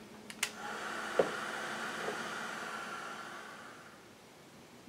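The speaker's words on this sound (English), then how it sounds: "bring in the heat tool and dry this again" A craft heat tool drying a page in a Strathmore art journal, a soft steady airy blow near the mic after a couple of small clicks and taps, slowly fading toward the end.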